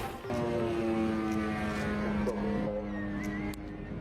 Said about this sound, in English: Is this a military aircraft?